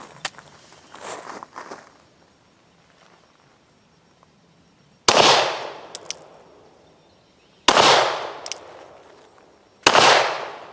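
Three loud, sharp gunshots from a pistol firing powder-coated cast lead MagTech rounds that were kept underwater for 3 days. The shots are spaced unevenly and each ring out with a decaying echo, after quieter handling clicks at the start.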